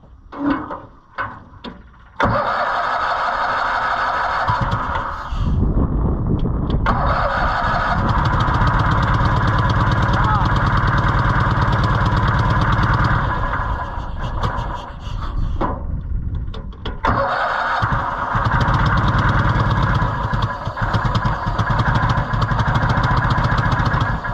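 An old Cushman Truckster utility vehicle's engine cranks briefly, then catches and runs with a steady, loud, rough idle for about twenty seconds, with a few dips and surges as the throttle shifts.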